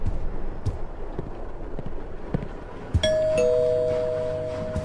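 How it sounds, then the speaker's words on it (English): Front doorbell ringing with a clear two-tone ding-dong chime that sounds once after quiet room noise and scattered soft knocks, then rings out and decays. "That was the front doorbell."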